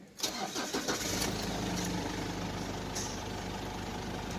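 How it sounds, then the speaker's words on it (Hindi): A Ford Endeavour with an automatic gearbox cranks and catches, then settles into a steady, close diesel-like idle that runs continuously to the end. "अभी गाड़ी हमारी स्टार्ट है।"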